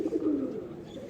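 Pigeons of a racing breed kept by a fancier coo steadily through the full moment, a low throaty rolling murmur, close and fairly loud with no talk over it.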